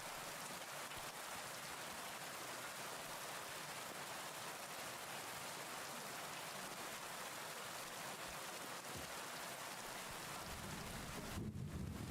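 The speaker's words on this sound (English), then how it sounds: "It's thundering and lightning on purpose, isn't it?" In the video game Kingdom Come: Deliverance II, steady rain hisses throughout with a low rumble of thunder underneath, and a deeper swell of rumbling rises near the end.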